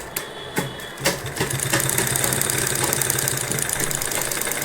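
Sewing machine stitching a fabric neck border, a few separate clicks and thumps at first, then a steady loud running whir close by.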